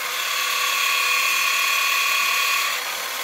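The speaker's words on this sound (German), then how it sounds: "Hier der neue Braunmixer. Macht einen Lärm. Vor allem bei Belastung wie eine Säge." A new Braun electric hand mixer whines steadily at close range under load with a harsh, buzzing, saw-like tone while mixing cake batter, easing off slightly near the end.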